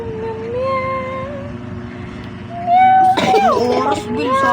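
A person imitates a cat, voicing a string of repeated meows close to the microphone, nasal and sliding in pitch, over a hum of background noise, with a louder cluster of overlapping cries near the end.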